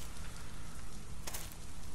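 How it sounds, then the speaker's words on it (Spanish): Rain starting to fall in a game, a steady dense patter of drops across a broad wash of noise, continuous and fairly loud, with no voices. "Se puso a llover de un momento a otro."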